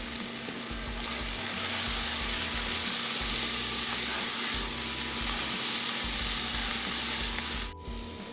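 Onions with a pinch of asafetida fry steadily in a pan, a continuous close, loud sizzle and crackle that holds for several seconds, with a brief stir-like dip near the end.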